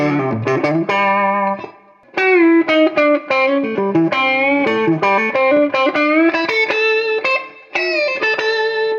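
Single-note lead phrases on a semi-hollow ES335-type electric guitar played through a slightly overdriven Vox amp, with bright sustained notes and short pauses between runs, played alone.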